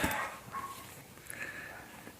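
Dogs yipping and whimpering in a room while an electric guitar is shown off, several short high cries scattered through the moment over background noise.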